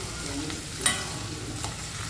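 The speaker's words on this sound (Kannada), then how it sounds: "ಬಟಾಣಿನ ಚೆನ್ನಾಗಿ ಅದೇ ಎಣ್ಣೆಯಲ್ಲಿ ಬೇಯಿಸ್ಕೊಂಡ್ಬಿಡೋಣ" Green peas frying in hot oil for mutter paneer, a steady close sizzle with a couple of brief scraping stirs of a utensil in the pan.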